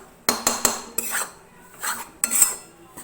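A spatula scrapes and clinks against a pan as atta flour is stirred in ghee for laddu, in several short bursts and strokes, close and fairly soft.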